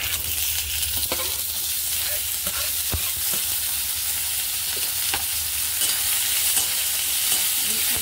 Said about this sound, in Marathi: कांद्याला थोडंसं तेलामध्ये फ्राय केलं ना तर छान चव येते।